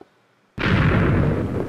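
A TNT blast in Minecraft blows up a house: after a near-silent moment, one sudden loud explosion erupts and rolls on as a sustained, rumbling roar of debris, with no talking.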